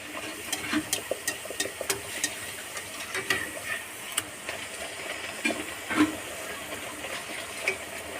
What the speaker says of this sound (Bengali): লেচি করে নিয়ে তারপর এটাকে বেলে তেলে দিয়ে ভাজবো